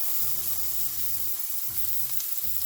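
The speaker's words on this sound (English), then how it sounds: "to our skillet, we are going to add some avocado oil, and then we are going to cook our veggies. Starting with our onions," Onions frying in avocado oil in a skillet, a steady close sizzle with a constant crackling hiss throughout.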